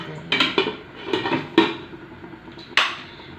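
A metal lid goes back onto a pot of pork leg simmering for paksiw na pata: four or five sharp, close clanks and clatters, spaced irregularly, with quiet kitchen background between them.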